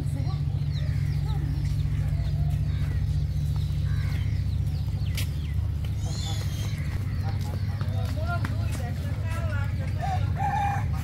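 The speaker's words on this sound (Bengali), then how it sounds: "মুরগি ডাকতেছে" Rooster crowing in a village yard, the calls fairly distant over a steady low hum, with people talking nearby.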